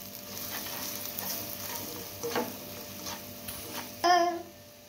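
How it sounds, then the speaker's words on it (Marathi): Spices including garam masala and coriander powder stirred in a hot pan for Mumbai-style egg bhurji, a soft sizzle with scraping strokes, rising to a louder burst of frying near the end, no voices. "व्यवस्थित हलवून घ्यायचे मसाले।"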